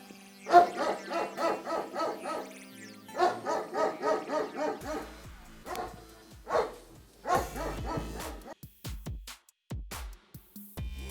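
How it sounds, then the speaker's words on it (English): A female Alabai barks at a kennel in steady, deep, rhythmic volleys, loud and close, with pauses between runs and a few sharper single barks toward the end, no talk. "Beautiful, beautiful female Alabai right there."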